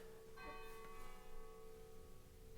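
A church bell strikes once at moderate distance; its ringing tone holds and slowly fades over a faint steady background hum.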